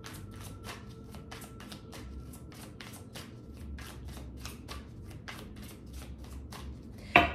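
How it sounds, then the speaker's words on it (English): Tarot cards are riffled and shuffled in a long run of quick, crisp bursts at an even rhythm, close up and steady, ending with a sharper tap or clack. "Shuffle for Cancer."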